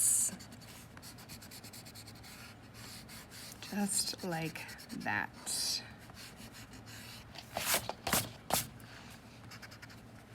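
An eraser rubs out pencil marks on paper in quick up-and-down strokes, a close, soft scratchy rubbing in short bursts, while a person speaks quietly at times.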